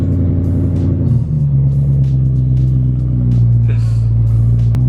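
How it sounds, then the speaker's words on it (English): A loud BMW M3 at a car meet rumbles deeply at a steady idle, and the engine note shifts slightly partway through. The sound is close, continuous and heavy, with a faint voice underneath. "Definitely one of the loudest freaking cars I've heard."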